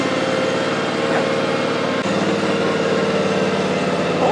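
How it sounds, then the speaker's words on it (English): A YAKTA YXR-710 zero turn mower's engine runs steadily and loudly up close, a constant throbbing drone with slight throttle variation and no pause. "good sounding mower"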